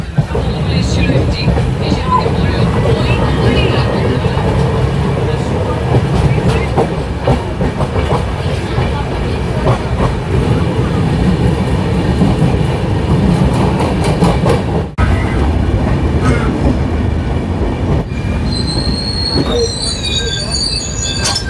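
The Howrah - Puri Superfast Express runs loud and close and never lets up: a dense roar of rolling stock with rhythmic clickety-clack over rail joints and high wheel squeal near the end.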